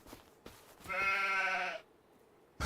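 A sheep in the Farming Simulator 25 video game lets out one clear, drawn-out bleat, loud and close, with a few soft clicks before and after.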